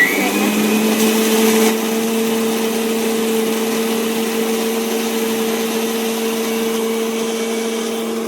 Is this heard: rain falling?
no